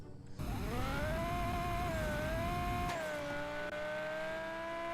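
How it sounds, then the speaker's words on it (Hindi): Supercar launching from a standstill in a 0 to 100 acceleration test, its engine note climbing loud and close through the gears, one sharp drop at a shift before the rising whine carries on, no voices. "अब सबसे पहले हम लोग इसका 0 to 100 चेक करने वाले हैं।"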